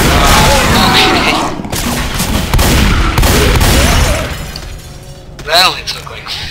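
Gunfire in the zombie shooter game Left 4 Dead crackles in loud, dense bursts with heavy booms. The shots run almost without a break and ease off near the end.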